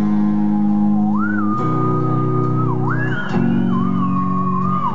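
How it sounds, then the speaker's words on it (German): A person whistles a short melody at a rock concert at the MiniRock-Festival, a clear, loud sliding tune over a sustained low band accompaniment, with the notes rising and falling in distinct phrases. "Es geht darum, folgende Melodie zu pfeifen."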